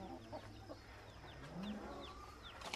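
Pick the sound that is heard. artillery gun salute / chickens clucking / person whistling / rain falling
chickens clucking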